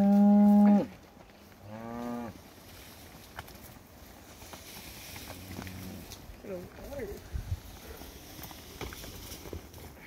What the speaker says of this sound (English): Train of cows.